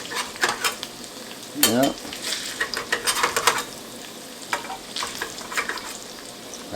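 An egg fries sunny side up in a pan for a home-style diner breakfast, a steady close sizzle with scraping and stirring clatter of utensils; a voice speaks one brief word.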